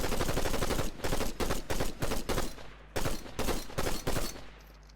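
Assault rifle fire in Fortnite, a loud, close series of rapid automatic bursts, each lasting about a third of a second, separated by brief gaps, with a steady low hum beneath.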